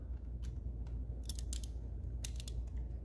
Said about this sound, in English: go to the bottom of your bike and remove these two screws